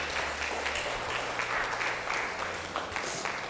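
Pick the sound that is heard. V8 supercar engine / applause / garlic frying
applause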